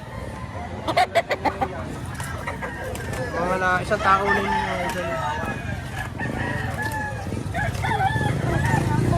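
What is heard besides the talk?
rooster crowing and clucking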